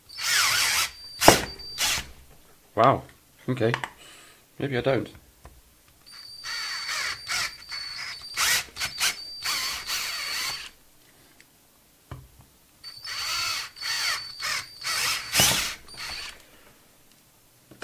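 A power drill whines in repeated, uneven bursts, close and loud, grinding on and off with brief pauses and a few short spoken remarks, cutting rather than cleanly drilling through material.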